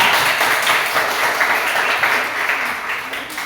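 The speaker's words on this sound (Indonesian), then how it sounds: "Coba tepuk tangan dulu untuk kelompok 3" A classroom audience claps for group 3 after their work is shown, a dense steady round of applause lasting a few seconds at even loudness.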